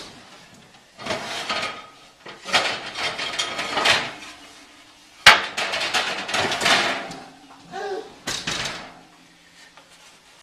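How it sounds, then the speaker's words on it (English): A heavy pizza stone at about 500 degrees slides out of a home oven onto a wooden peel, making several close, loud scraping and clattering bursts with short quiet gaps and a sharp knock partway through. "So I've got my pizza stone in the oven. So I'm going to pull that out."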